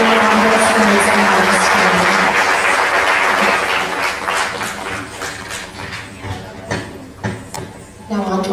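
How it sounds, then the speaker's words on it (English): Applause from an audience at a dance school's annual showcase fills the opening seconds loudly, then thins into scattered clapping as a voice begins speaking over it. "Let's give these girls another round of applause to congratulate them on their skills and"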